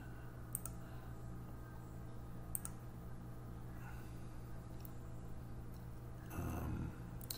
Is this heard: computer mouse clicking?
yes